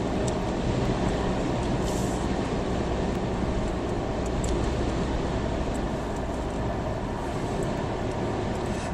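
A car cruising at about 55 mph over Willsboro Mountain, giving a steady, loud interior road and engine drone that holds unbroken throughout.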